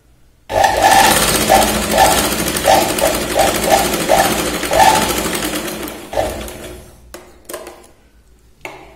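A sewing machine stitches blouse fabric in loud, rapid mechanical bursts, stopping and restarting several times before falling into a few quieter clicks and handling noises.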